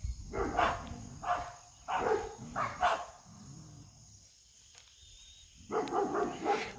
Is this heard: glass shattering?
no